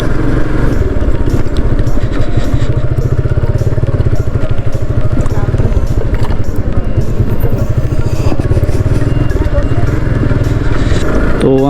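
A motorcycle ride home from a waterfall trip in Mirsarai, Chattogram: a loud, steady engine drone with rattling clatter runs throughout, close and continuous, with rushing noise over it.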